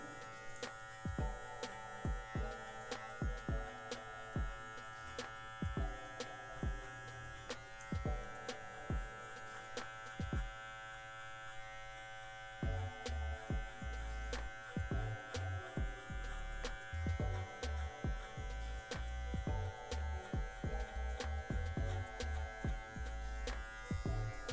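An electric hair clipper fitted with a number 1 guard cuts a fade haircut. Its steady, close buzz pulses with repeated rhythmic passes, and no one speaks.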